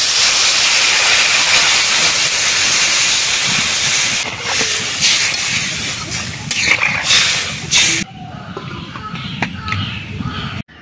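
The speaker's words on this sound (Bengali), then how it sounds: "এবারে জল দিয়ে দেবো।" Water poured into a hot pan of frying hilsa fish for a village-style curry bursts into a loud, steady hissing sizzle that softens after several seconds into crackling and bubbling, with no voices.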